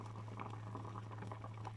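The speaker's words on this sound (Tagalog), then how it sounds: "Ito po, kumukulo na po siya." Paksiw na tambakol, fish stew with coconut milk, bubbles in a pot with a soft, steady simmering patter and a low hum beneath, faint and close, with no talk.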